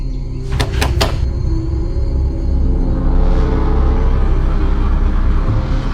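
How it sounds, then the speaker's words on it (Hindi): Three quick, sharp knocks on a door in quick succession, close and loud, followed by a low steady indoor rumble. "खटखटाइए तो जरा।"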